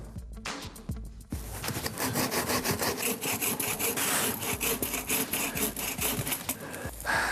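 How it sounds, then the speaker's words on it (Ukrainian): A hand saw cuts through firewood in quick, rhythmic back-and-forth strokes, close and loud, after a few light taps at the start. "У нас є пилка. Зараз будемо пилити,"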